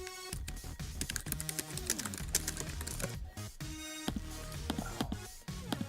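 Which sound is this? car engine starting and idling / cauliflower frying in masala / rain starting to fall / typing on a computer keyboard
typing on a computer keyboard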